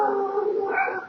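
Neighboring dogs howl in a short, loud, drawn-out wavering cry with a rising yip near the end, close and clear with no talk over it.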